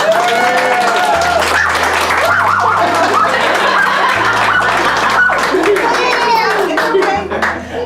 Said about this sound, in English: Please, if we can acknowledge Aunt Molly with a huge round of applause.